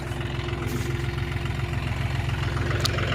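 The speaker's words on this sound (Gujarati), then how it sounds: "હવે ટ્રેક્ટરને રેઢું મૂકી દી છે" A tractor engine idles steadily, left running unattended in a farm field, its low chugging rumble close and even throughout with a faint vibrating rattle on top.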